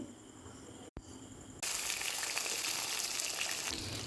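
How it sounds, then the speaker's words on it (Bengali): Eggplant pieces drop into hot oil and burst into a loud, steady frying hiss that starts abruptly and keeps going without a break. "এখন এই গরম তেলের মধ্যে বেগুনগুলোকে ছেড়ে দেব এবার বেগুনগুলো হালকা করে ভেজে নিতে হবে"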